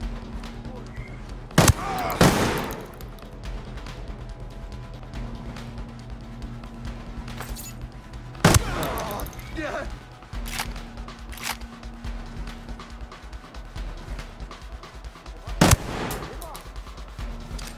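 Gunfire in the tactical shooter Ghost Recon, with three sharp, loud single shots spaced several seconds apart, each followed by a brief rattling tail, over a steady low hum and scattered game noise.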